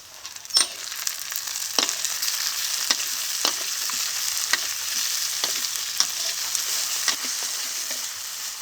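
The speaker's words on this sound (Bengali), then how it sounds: "পেঁয়াজটা ভেজে নিয়েছি এখন দিয়ে দেবো টমেটো কুচি" Onion and chopped tomato frying in a pan, giving an even, close sizzle punctuated by about a dozen sharp spatula scrapes and taps at irregular intervals.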